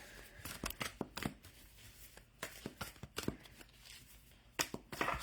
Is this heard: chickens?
no